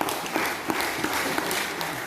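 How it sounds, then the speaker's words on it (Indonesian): Church congregation applauding during a sermon, a steady dense wash of many hands clapping together, loud and continuous with no talk over it. "Kita beri tepuk tangan bagi Tuhan."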